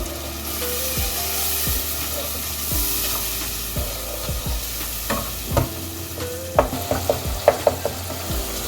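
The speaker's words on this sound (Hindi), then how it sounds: "अब इसको इसके साथ मिक्स कर लें और थोड़ा सा भून लें" Ground red chili, turmeric and coriander sizzle in hot oil while being stirred for tinda sabzi, a steady close frying hiss broken by scraping strokes of a spoon against the pan that grow more frequent toward the end.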